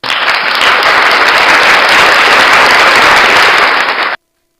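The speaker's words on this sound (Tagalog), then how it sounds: "Bigyan ng palakpak yan." Loud, dense applause from a live-broadcast audience fills the space steadily for about four seconds, then cuts off abruptly into silence.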